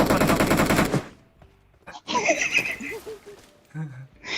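Gunfire in the mobile battle-royale game PUBG Mobile: a loud burst of rapid automatic shots that cuts off after about a second, followed by quieter game sounds and someone talking.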